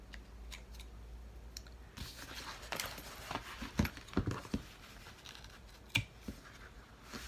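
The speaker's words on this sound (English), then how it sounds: "I'm going to just trim off any excess threads" Scissors snipping loose threads from the seam of a zipper pouch, a few sharp close clicks scattered among quiet handling rustles.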